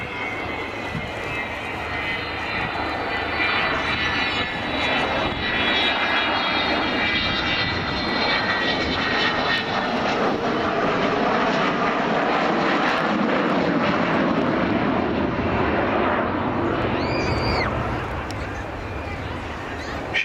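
Avro Vulcan XH558 jet bomber flying over RAF Cosford, a loud continuous engine roar swelling and fading slightly over twenty seconds, with a voice speaking over it.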